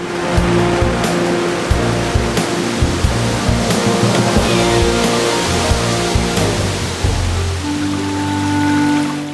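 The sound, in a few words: waterfall cascade at Krka National Park, Croatia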